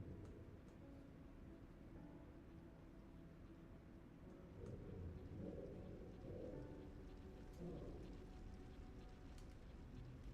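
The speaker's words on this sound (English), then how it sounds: "don't mind the rain outside" Steady rain falls outside with a low rumble of thunder swelling midway, a dense, even wash of sound heard faintly from indoors.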